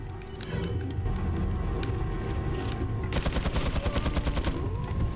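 Rapid gunfire in the survival horror game Resident Evil 4, a steady rattle of repeated shots that turns into a dense, fast fusillade in the second half, moderately loud with no voices.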